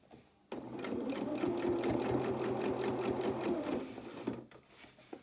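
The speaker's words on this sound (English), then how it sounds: "Keep your machine needle down into your work" A domestic sewing machine stitches steadily down a channel in fabric for a doll's twirling dress, its rapid mechanical whirr starting abruptly, running evenly for several seconds, then stopping, close and clear.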